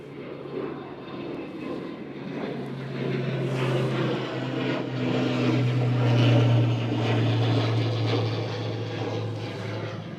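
Propeller aircraft engine droning at Newcastle International Airport, a steady low hum that swells louder midway as the plane climbs away, then eases slightly toward the end.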